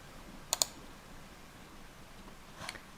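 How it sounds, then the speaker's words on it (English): A computer mouse clicks twice quickly, close and crisp, followed by another faint click a couple of seconds later against a quiet background. "right click, save image as"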